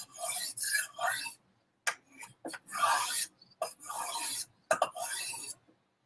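Knife blade rasping across a Warthog knife sharpener, repeated close scraping strokes with short pauses between them, loud and alone.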